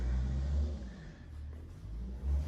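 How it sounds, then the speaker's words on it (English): Low engine rumble of a forklift working next door, rising and falling slightly as it revs, with a faint background hiss. "He's got his forklift out again next door."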